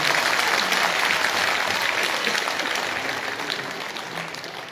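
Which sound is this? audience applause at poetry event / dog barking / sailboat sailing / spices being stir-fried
audience applause at poetry event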